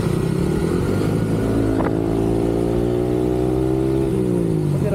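A remapped Yamaha Sniper 155 motorcycle engine revs hard and close, its steady harmonic drone rising and falling in pitch through continuous throttle blips with no talk over it.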